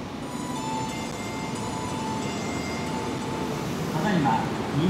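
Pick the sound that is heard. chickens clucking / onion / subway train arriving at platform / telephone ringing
subway train arriving at platform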